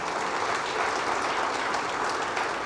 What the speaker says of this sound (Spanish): Sí, el Señor merece un aplauso.